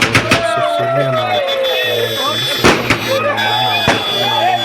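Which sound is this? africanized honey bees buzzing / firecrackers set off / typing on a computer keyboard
firecrackers set off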